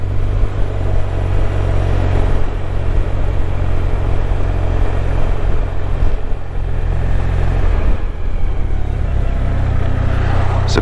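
Motorcycle engine rumbling steadily close by, its tone shifting and blipping as the rider drops gears with rev matching to slow down, with no talk over it.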